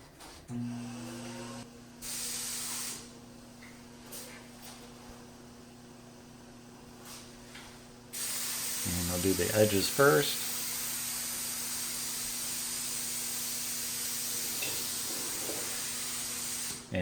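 A steady, loud hiss of a spray gun applying thinned lacquer to a piano begins partway through and runs to the end, with someone speaking briefly over it.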